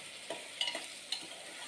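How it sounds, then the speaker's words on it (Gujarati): Two large finely chopped potatoes go into hot oil in a pan for masala rice, giving a quiet sizzle with a few soft crackling bursts and stirring sounds, no voices. "હવે એની અંદર આ જે સમારેલા બટેકા છે એ નાખી દઈશું."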